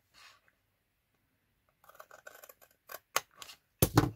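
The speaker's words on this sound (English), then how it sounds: "then we're going to cut at an angle" Scissors cutting card for a handmade gift box: a quiet run of small snips followed by a few sharper, louder cuts, close up with no talking.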